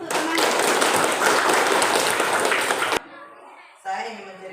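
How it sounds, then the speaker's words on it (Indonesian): Classroom of children applauding a classmate, a dense burst of clapping for about three seconds, then a quieter room with a voice speaking afterward. "Berikan dulu aplaus untuk temannya."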